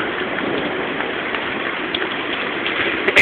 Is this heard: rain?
yes